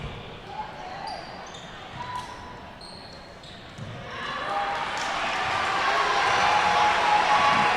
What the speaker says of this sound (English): Badin crowd getting a little energetic here